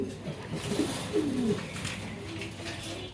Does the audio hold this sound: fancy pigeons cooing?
yes